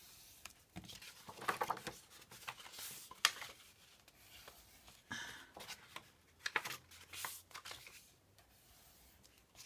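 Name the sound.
creasing folds in paper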